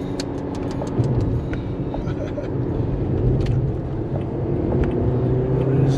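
Toyota Corolla in sport mode driving on a hot day, a steady low engine and road rumble heard from inside the cabin, continuous and fairly loud with faint intermittent clicks above it.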